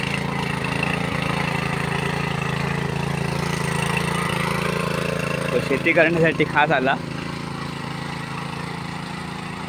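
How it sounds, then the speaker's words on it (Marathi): A tractor engine in a farm field drones at a steady, constant pitch throughout, with someone speaking briefly over it partway through. "आता आमच्या मळ्यामध्ये ट्रॅक्टर चालवतोय।"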